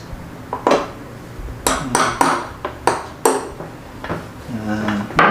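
Hammer strikes on a kids' pedal tricycle part to make a hole, a series of sharp metallic knocks and clinks at an irregular pace, close and fairly loud, with a brief voice near the end.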